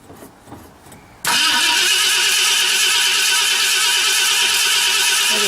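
A 1968 Ford Galaxie cranking on a cold start at night with the hood off: after a second of quiet murmur, the starter and engine burst in loud and close, then hold a steady, harsh whirring roar.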